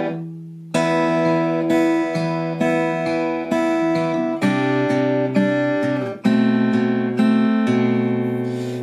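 A guitar plays a melodic passage of picked notes and ringing chords, sustained tones changing every half second or so, close and clear with no talking.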